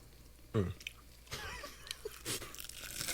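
Someone chewing KFC fried chicken up close, with crunchy bites, wet smacking and mouth clicks in short irregular bursts against a quiet background.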